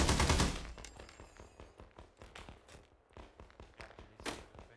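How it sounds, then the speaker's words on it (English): Rapid bursts of submachine gun fire from a PPSh in ArmA 3 (S.O.G. Prairie Fire), a loud close volley at the start, then a long run of sharp repeated reports, some farther off, with another loud burst near the end. "Sounds like a PPSH."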